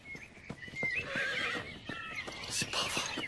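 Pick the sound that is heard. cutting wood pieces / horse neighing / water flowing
horse neighing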